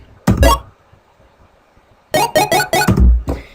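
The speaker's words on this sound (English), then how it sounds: "I got some more bleeps going on in the second half as well" Bright, buzzy 8-bit synth bleeps: two quick tones, a pause, then a fast run of five or six more in a choppy rhythm, loud and up front.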